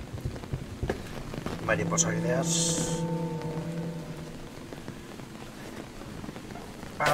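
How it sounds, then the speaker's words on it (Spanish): Steady rain patters in the video game Uninvited Guest, set in the Winchester mansion: a continuous soft hiss of falling drops behind Spanish speech and a few brief game sounds. "Está lloviendo un poco, vámonos."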